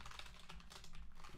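Quick, soft keystrokes patter on a computer keyboard in a quiet room, a short burst of typing heard close.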